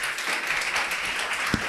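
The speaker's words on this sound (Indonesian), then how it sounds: "kasih tepuk tangan" Brief burst of audience applause at an Islamic lecture, a steady wash of many hands clapping at moderate distance, with one faint knock near the end.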